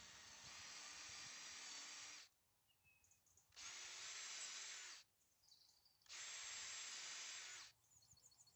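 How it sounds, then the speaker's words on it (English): An electric drill bores dowel holes into an oak armrest in three distinct bursts of about one and a half seconds each, separated by short quiet pauses, close and clear with no voices. "I drill 2 dowel holes, taking care not to drill all the way through"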